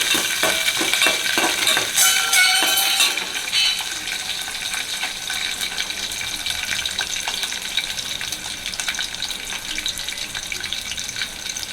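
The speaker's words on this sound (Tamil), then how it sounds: "பூண்டு பொரியட்டும்." Garlic frying in oil in a pan for Tamil kulambu, with a bright crackling sizzle that is busiest for the first few seconds and then settles into a steady, softer spitting hiss, with no talking.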